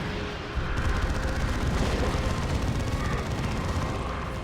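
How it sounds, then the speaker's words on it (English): Laser cannon blasts in a Dawn of War II: Retribution multiplayer battle, striking a Carnifex and a Dreadnought: a dense, continuous wash of booming fire and rumble that fills the whole stretch at steady loudness, with no talk over it. "Las cannon shots on that Carnifex, as well as on this Dreadnought."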